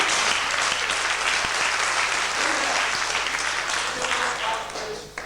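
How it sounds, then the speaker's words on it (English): An audience at a school magic show applauds, loud sustained clapping close by that tapers off toward the end, with some voices under it. "give it a big clap"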